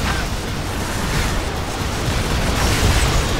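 A loud, sustained explosion rumbles as an orb is destroyed in Unreal Tournament 3 Warfare on the Torlan Necris map, a broad blast with crackling debris lasting the whole moment.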